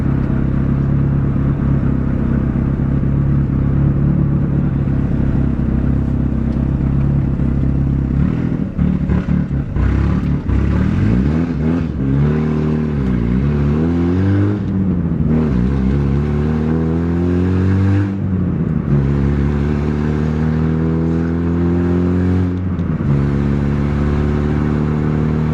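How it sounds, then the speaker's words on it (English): A car engine runs steadily and loud throughout, with a faint repetitive ticking from the valve lifters beneath the rumble as the revs rise and fall in the middle stretch. "I do hear lifter tick."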